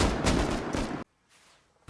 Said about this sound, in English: We heard some gunshots.